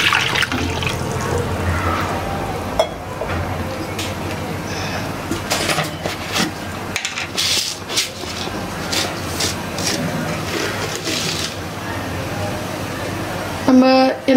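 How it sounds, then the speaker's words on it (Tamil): Water pours and splashes into a pan for milk payasam as a continuous running, gurgling wash with uneven surges, loud and close; no talk. "ஹண்ட்ரட் எம்எல் அளவு தண்ணி சேர்த்துடலாம்."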